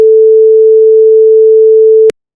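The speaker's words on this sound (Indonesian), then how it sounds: "audio ini mirip dengan nada la." A steady electronic sine tone pitched at the musical note la sounds loud and unbroken for about two seconds before cutting off sharply with a click, with nothing else heard.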